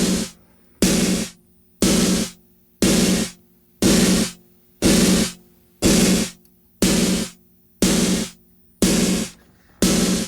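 Snare drum hits drenched in an exaggerated gated reverb, the classic Phil Collins sound: about ten loud, evenly spaced blasts, roughly one per second, each a dense burst of reverb that is cut off abruptly into silence.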